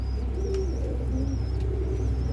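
Sialkoti pigeons cooing in a low, soft repeated burble, several calls in a row close by, with faint chirps from other birds over steady background hum.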